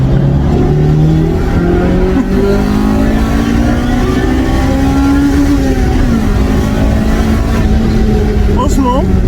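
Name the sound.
Honda Integra Type R engine driving around a roundabout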